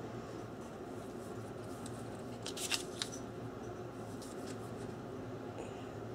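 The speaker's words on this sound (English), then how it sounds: "I'm going to cut just to the inside, let's start down here, of the line." Scissors cut a paper Christmas stocking shape around a template, giving soft, close snips that cluster around the middle of the stretch over a steady low room hum.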